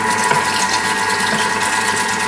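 A Thermomix food processor runs at speed 4, giving a loud, steady whirring drone that holds without a break and with no voices over it.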